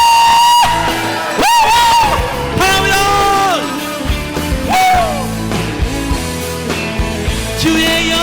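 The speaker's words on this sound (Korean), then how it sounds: "우리 주님 사랑만큼 주님께 소리 질러!" A worship congregation shouts and cheers loudly to the Lord, a sustained mass of voices with whoops rising over continuous music throughout.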